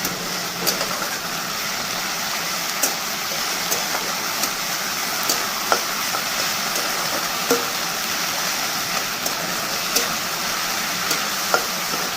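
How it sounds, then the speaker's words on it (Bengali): Ground spice paste fries in a pan under a steady sizzle. A spoon scrapes and taps now and then in a loose rhythm. The sound is close and fairly loud, and no one talks. "মশলাটাকে ভালো করে কষিয়ে নিই"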